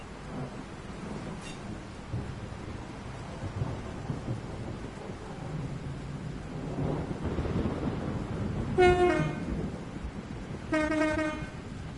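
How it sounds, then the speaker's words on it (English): Train horn blasts near the end of a Train Sim World 5 commuter run around Manchester Airport, two loud harmonic honks rising over a low, steady rumble of quiet traction motors and rolling noise. "horn is loud, but the motors are quiet"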